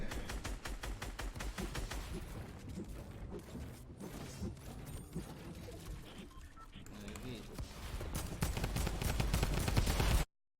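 Rapid gunfire from a Fortnite solos World Cup match crackles in dense bursts throughout, loud and close, building toward the end amid other game effects and occasional speech.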